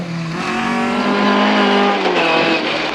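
A historic rally car races through a slippery, loose infield section of a rally in Barbados. Its engine is loud and near, revving up through the gears with rising and falling pitch, and the exhaust note shifts as it powers past.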